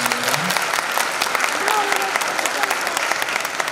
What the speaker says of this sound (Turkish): Onlar için lütfen kocaman bir alkış istiyorum.